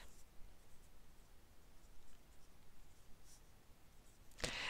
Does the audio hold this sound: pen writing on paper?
yes